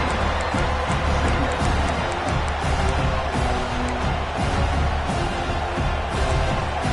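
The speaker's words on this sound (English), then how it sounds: "Listen to this crowd just shaking the girders of this place, trying to help their defense" A stadium crowd at a college football game roars steadily as the fans try to rattle the opposing offense. The dense, sustained wall of cheering fills the whole stretch without letting up.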